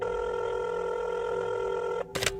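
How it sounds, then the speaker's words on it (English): Telephone ringback after a number is dialed: a steady electronic tone with a sustained pitched drone that runs for about two seconds, then cuts off into a short burst of broadband noise, with no voices. "she grabbed her phone and dialed a number"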